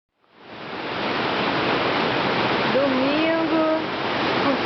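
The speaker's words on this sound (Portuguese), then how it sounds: "Domingo, curtindo uma cachoeira em Lindice, Rio de Janeiro." Forest waterfall near Rio de Janeiro, a dense, steady rushing roar of falling water that swells in within the first moment and stays constant, with a brief faint wavering tone midway through.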